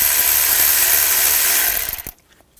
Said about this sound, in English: Loosen up this worm clamp here, use a 7mm socket.